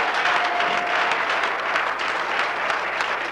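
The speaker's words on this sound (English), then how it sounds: "Can I hear a round of applause for Jim Walsh?" An audience at an Easton Jr Hockey League 25th anniversary gathering gives a round of applause, steady close clapping that lasts a few seconds.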